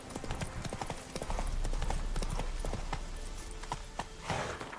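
Galloping hooves of Roach, the horse in The Witcher 3 video game, clip-clop in a quick steady rhythm close by, with a brief whinny-like sound and faint background game ambience.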